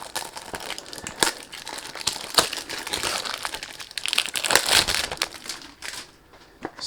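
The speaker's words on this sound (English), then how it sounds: "So when you do unboxing, you can't do anything about the noise." Cologne box packaging is unboxed close up, with irregular crinkling, crushing and tearing of paper and plastic in bursts of varying loudness, and no talking.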